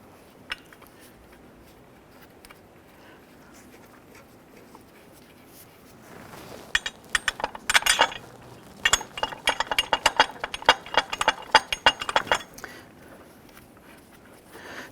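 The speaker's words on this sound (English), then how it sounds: "Install this bolt here." Bolts being threaded into a Toyota Camry water pump with light metallic clinks and ratcheting clicks, faint at first, then a dense run of close, irregular taps and rattles.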